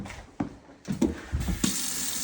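Water flows steadily from a tap with a hissing rush, punctuated by a few knocks and clunks nearby.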